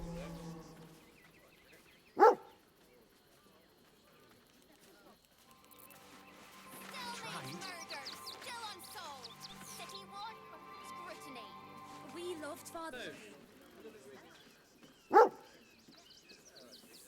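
Dogs in the video game Baldur's Gate III give two sharp, isolated barks about thirteen seconds apart, set against quiet ambience while characters talk between them.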